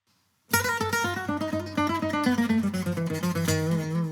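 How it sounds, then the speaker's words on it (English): An acoustic guitar plays a lively, swinging gypsy jazz solo in quick picked runs, close and clear, starting after a short silence. "A really gypsy jazz style. It's a gypsy jazz style guitar."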